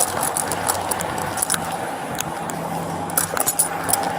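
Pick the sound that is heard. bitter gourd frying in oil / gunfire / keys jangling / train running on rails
keys jangling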